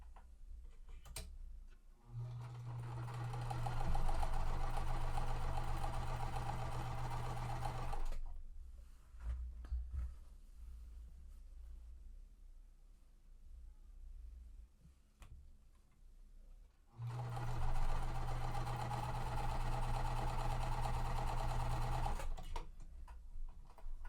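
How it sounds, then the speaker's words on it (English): Sewing machine stitching quilt squares in two bursts of several seconds each, a fast even mechanical whir and tick with quiet pauses between, close and moderately soft, no talk. "I'm also going to sew them both at the same time."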